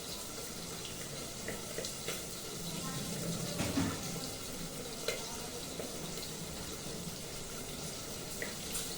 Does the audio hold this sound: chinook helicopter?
no